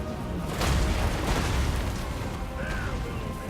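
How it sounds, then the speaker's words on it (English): Dense, rumbling video game artillery explosions and bursts overlap continuously in a loud, noisy battle din during an online 3v3 Bretonnia match, with a faint whistling tone near the end. "I start launching artillery at this clump of units."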